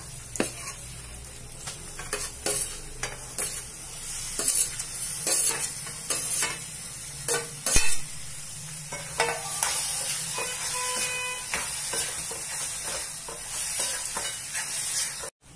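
Mashed roasted eggplant bharit going into a hot pan, with loud frying sizzle and repeated scraping and clattering of a spoon while it is stirred, close by.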